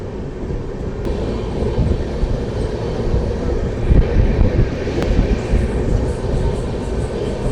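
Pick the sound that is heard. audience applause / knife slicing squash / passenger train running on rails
passenger train running on rails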